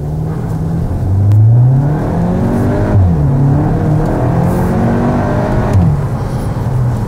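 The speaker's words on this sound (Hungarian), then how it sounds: "csak megmutatok egy rajtot, meg egy hangot, és remélem lehet majd hallani ezt a hangot, amit ad az autó" A 2025 Škoda Octavia RS 2.0 TSI DSG revs hard at launch using launch control, its pitch climbing steeply through several gear shifts, loud and close with a steady throaty roar.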